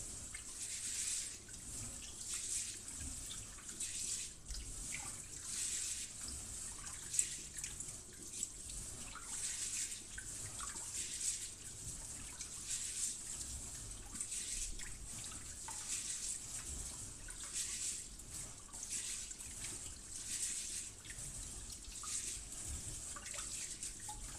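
Water runs steadily into a pot while chicken is being cooked in a home kitchen, a continuous close hiss of pouring liquid lasting throughout with no voices.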